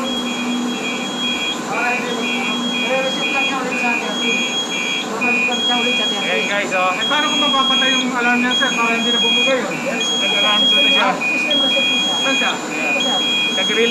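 An FM200 fire suppression system alarm sounds during its 60-second release countdown, a steady repeating electronic beep pattern pulsing over a constant drone, with voices talking over it throughout.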